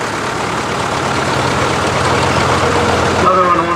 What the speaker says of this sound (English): Dean Guarneri from Perrinville, a 1960 John Deere Standard 730.